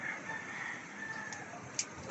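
A rooster crows with chickens around it at a chicken coop whose roof was wrecked by a storm; the crow is sustained and fairly near, and a sharp knock lands near the end.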